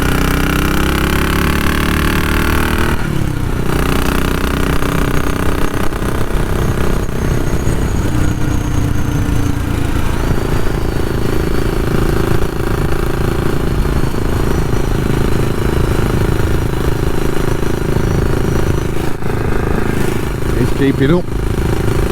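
Engine of a classic motorcycle with an old carburettor, running steadily and loudly throughout while riding, with a voice talking briefly over it.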